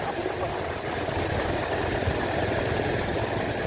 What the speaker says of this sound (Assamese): খুব ধুনীয়াকৈ বাইকত গৈ আছোঁ লাহে লাহে